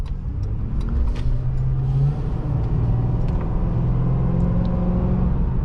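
A 2008–2011 Ford Crown Victoria P71 Police Interceptor pulling away and accelerating, its engine a steady deep rumble heard from inside the car, with a rising drone as it gathers speed and no talking.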